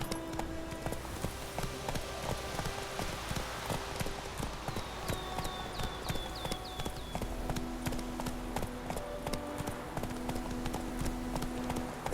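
Hooves of Roach, Geralt's horse in The Witcher 3, clip-clop at a steady gallop in a rapid rhythm, close and clear, over a game soundtrack with faint background tones.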